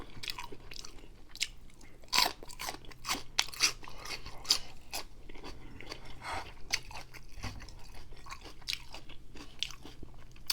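Celery sticks crunched between the teeth during a spicy shrimp and noodle meal, a steady run of crisp, close bites and chewing, loud and alone without talk.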